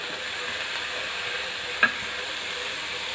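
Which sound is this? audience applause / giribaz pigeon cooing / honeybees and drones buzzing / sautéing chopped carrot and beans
sautéing chopped carrot and beans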